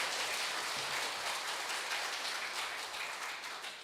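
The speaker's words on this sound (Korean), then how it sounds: "박수 한번 보내겠습니다." Church congregation applause during a Sunday afternoon service, a soft, even wash of many hands clapping from a distance, holding steady before tapering slightly near the end.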